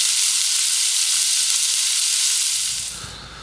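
Onions sizzle loudly in a pan as white wine goes in, inside a tarp hot tent on a rainy night, a bright hissing burst that softens and fades toward the end.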